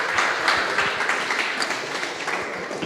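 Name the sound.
audience applause at a meetup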